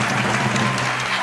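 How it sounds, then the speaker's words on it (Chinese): A studio audience at a Taiwanese television variety show breaks into a short burst of applause, a dense, even wash of clapping filling the whole moment. "掌声鼓励。"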